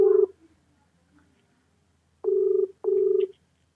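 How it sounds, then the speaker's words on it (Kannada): A phone ringing back on an outgoing call, two clear repeated electronic ring tones after a short opening tone, near and otherwise quiet between rings. "ರಿಂಗ್ ಆಗ್ತಿದೆ ಗೈಸ್, ಫೋನ್ ಪಿಕ್ ಮಾಡ್ತಿಲ್ಲ"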